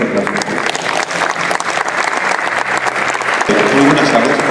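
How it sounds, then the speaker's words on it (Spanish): Loud, sustained audience applause at a criminal procedure law lecture, welcoming a speaker; dense clapping fills the whole stretch with some crowd murmur mixed in. "Un fuerte aplauso."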